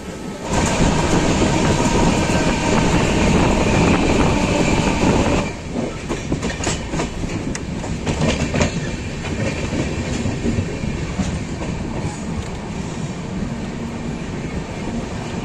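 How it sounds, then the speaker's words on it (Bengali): The 13151 Jammu Tawi Express pulls away and runs on the rails. A loud, dense roar gives way after a few seconds to a somewhat softer steady rumble with scattered clanks and rail clicks, and no one speaks. "তো চলো, ট্রেন আমাদের ছেড়ে দিয়েছে"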